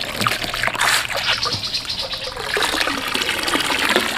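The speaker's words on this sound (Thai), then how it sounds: "นี่ผมจะดูดน้ำออกประมาณนี้ครับ" Water siphoned out of a betta fish breeding tank, a continuous close gurgling and trickling flow with small splashes, steady for a few seconds.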